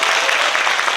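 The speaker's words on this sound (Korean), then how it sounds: "큰 박수 주시기 바랍니다" Applause from a lecture audience welcoming a speaker at an academy talk, a dense, steady patter of many hands clapping close by for about a second with no voices.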